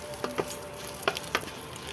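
Green chillies, seeds mostly removed, sizzle in hot oil in a pan for shahi paneer. The sizzle is a soft, steady hiss with a few sharp pops and crackles at irregular intervals.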